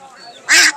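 A duck at a market sale gives a single short, loud nasal quack close by, rising out of quiet background murmur.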